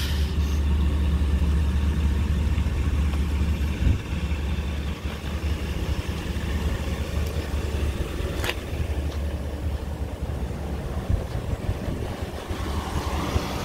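A 2008 Dodge Ram 1500 pickup with 86k miles idles steadily, a low, even engine rumble heard up close with some wind buffeting on the microphone and no talking.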